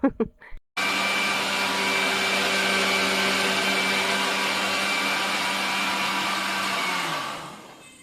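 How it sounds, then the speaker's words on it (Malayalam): A mixer grinder grinding rice starts after a short moment of background sound, then runs as a loud, steady motor whir before winding down at the end. "ഞാൻ അരിയൊക്കെ അങ്ങ് അരച്ചു വെക്കാമെന്ന് വിചാരിച്ചു"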